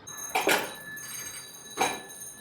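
Telephone ringing in a railway crossing cabin in Pakistan: two short bright rings about a second and a half apart, moderately close over a quiet room background.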